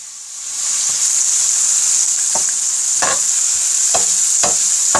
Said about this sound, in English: I would fry these up for probably about 10 minutes.